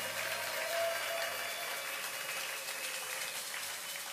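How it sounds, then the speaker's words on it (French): A congregation at a prayer service applauds with steady, dense clapping that holds at an even level from start to finish, with no one talking over it. "Vous pouvez acclamer fortement."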